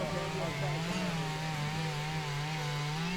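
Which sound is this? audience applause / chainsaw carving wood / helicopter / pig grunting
chainsaw carving wood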